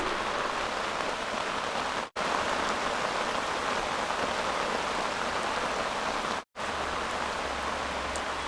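Steady, dense rain pours down near a river during a fishing trip, a constant loud hiss of drops on water and surfaces, broken by two brief cuts to silence.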